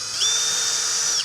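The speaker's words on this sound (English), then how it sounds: "Pre-drill everything again." A power drill whines at high speed while pre-drilling composite stair treads, a single steady burst of about a second that winds up, holds and spins down, close and without talk.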